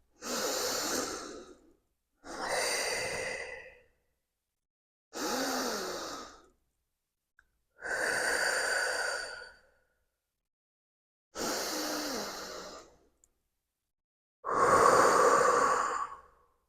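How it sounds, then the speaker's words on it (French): Six slow, loud breaths, alternating long inhales and exhales with silent pauses between, heavy and airy as if right at the microphone. "on amplifie le son de notre respiration 3 fois"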